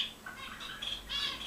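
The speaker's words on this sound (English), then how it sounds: "I've got some very noisy birds today." Noisy birds squawk in a few short, harsh bursts, with one louder call near the end, heard close over light background noise.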